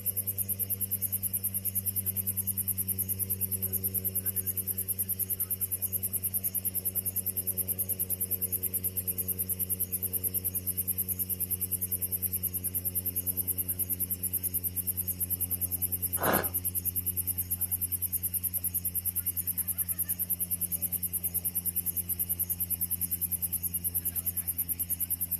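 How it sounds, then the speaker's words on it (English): Loud cicadas in season drone without a break, a dense steady buzzing hum that fills the whole stretch, with one brief sharp click partway through and no talk. "It's the season of cicada."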